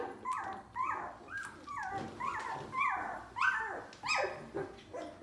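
A two-week-old puppy whimpers and yips repeatedly at close range, a rapid series of high, rising and falling cries in short bursts with brief pauses, with no talking.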